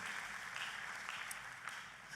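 A church congregation applauds together during a sermon, a steady wash of clapping filling the space at moderate volume for a couple of seconds.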